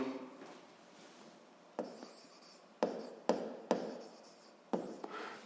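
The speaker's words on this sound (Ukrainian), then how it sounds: "Ну що ж, записуємо" Pen writing on paper while working a physics problem, heard as quiet close scratchy strokes coming in short bursts with pauses between them, and no voice.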